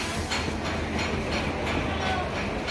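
An Intercity Express train pulls out of platform 1 at Barakar station. Its steady, loud rolling rumble is close by and carries a faint rhythmic clatter of wheels, with no talking.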